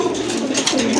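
A breeding pair of khoira-necked giribaz pigeons, the male calling, coo steadily in a close, fairly loud continuous throaty burble without speech.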